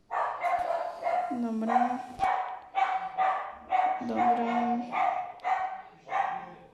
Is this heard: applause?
no